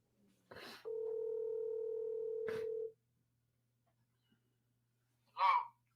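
A telephone dial tone hums steadily for about two seconds while a call is being placed on speakerphone, bracketed by clicks and followed by a brief burst after silence.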